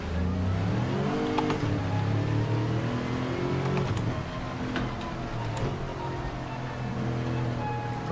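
Race car engines in a rainy Gran Turismo 7 race, a loud, continuous droning whine with rising and falling revs as cars accelerate and shift, steady throughout with no talk.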